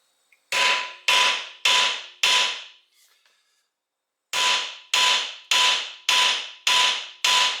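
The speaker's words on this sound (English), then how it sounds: "then you hammer the pieces out" Hard metallic hammer blows on the front end of a 1968 Pontiac GTO, four evenly spaced strikes, a short pause with faint clinks, then six more steady, loud, ringing hits, no talking.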